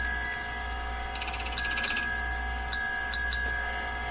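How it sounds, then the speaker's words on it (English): A bicycle bell rings five times in bright metallic dings, spaced in short bursts over a steady low background hum. "Always gotta ring the bell."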